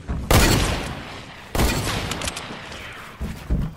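Rapid bursts of Fortnite video game gunfire, loud and close, in three separate volleys with short gaps between them, and no talking.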